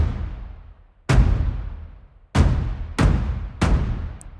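Four heavy, booming percussion hits strike at uneven intervals, each with a long decaying rumble, like big orchestral drums with cymbal crashes.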